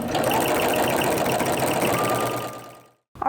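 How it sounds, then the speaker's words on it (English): A sewing machine fitted with a walking foot stitches fabric for a quilted oven mitt, a fast steady mechanical whir close by that winds down and stops near the end. "just go ahead and sew it like I am with your walking foot"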